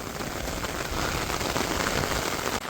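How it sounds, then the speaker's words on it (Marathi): Heavy rain pours down steadily, a dense, even patter and hiss filling the whole stretch with no voices. "पाऊस तर मजबूत पडतोय आता सुरुवातीला अजिबात नव्हता आता अचानक भरपूर वाढला आहे"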